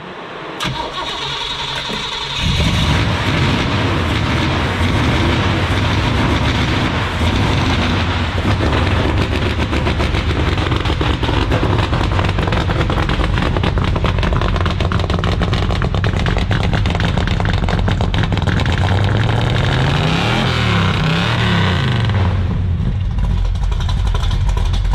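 A very loud sports car engine starts and revs hard, then holds a sustained, aggressive roar through most of the stretch before easing off near the end, with no talking over it.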